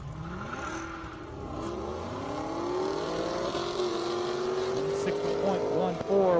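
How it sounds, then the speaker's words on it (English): A BMW M6 and a Jeep Grand Cherokee Trackhawk race side by side on an airstrip, engines rising in pitch through the gears as they accelerate, loud and sustained, with a commentator talking over them. "that's Slava right there in that M6 up against Glenn in that crazy Trackhawk Jeep Grand Cherokee"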